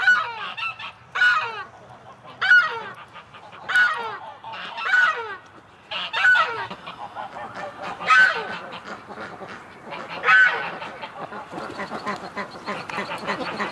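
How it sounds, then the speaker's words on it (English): Ducks in a yard give repeated loud honking quacks in bursts every second or two, close by, with faint background noise between calls. "He gets so excited about his ducks."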